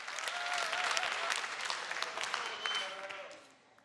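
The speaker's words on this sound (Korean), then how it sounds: "박수 소리 때문에 제 목소리가 잘 안 들렸죠?" A lecture-hall audience at a Sebasi talk applauds in a dense, steady burst of clapping that fades away in the last moments.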